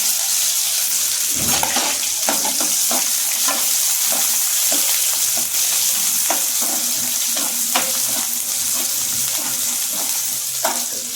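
Onions sizzle and fry in a pan with garlic while being stirred, a steady loud hiss with scraping stir clicks throughout, no voices.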